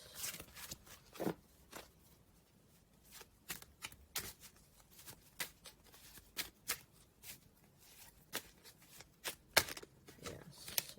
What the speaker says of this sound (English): Cards are pre-shuffled as always.